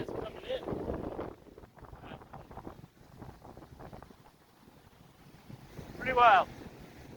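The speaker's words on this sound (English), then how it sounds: "I think it's pretty breezy, so I won't stay out here and talk. I'll get me somewhere out of the wind." Strong wind buffets the microphone on the Bay of Fundy shore, rumbling in gusts and peaking near the end, while someone talks briefly.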